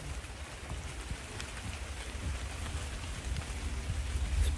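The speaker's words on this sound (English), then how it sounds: "It'll be just the rain in a way." Rain pattering steadily on a campsite at night, a dense continuous hiss of drops that grows slightly heavier toward the end, with no voices.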